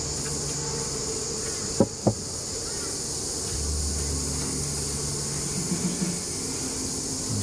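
Steady droning buzz of many honey bees close by in a top bar hive, with a couple of sharp knocks partway through and a low hum rising in the background.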